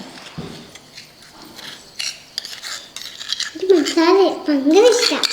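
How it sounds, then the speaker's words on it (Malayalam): A spoon stirs a teaspoon of yeast and three tablespoons of sugar in a bowl for bakery-style cream buns, with close clinks and scrapes against the bowl. It is quiet at first and grows louder, and a voice speaks over the later stirring. "ഇനി നമുക്ക് നന്നായിട്ടൊന്ന് ഇളക്കി കൊടുക്കാം"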